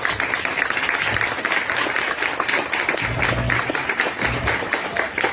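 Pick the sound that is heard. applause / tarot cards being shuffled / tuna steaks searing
applause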